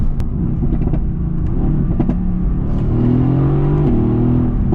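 A Mercedes-AMG GT S with a 515 hp engine is heard close and loud from the cabin, its exhaust revving and blipping through downshifts with rising and falling engine tones over a constant road roar.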